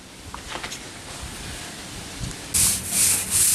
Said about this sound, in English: we use a hard bristle brush to scrub it in, get it into the grain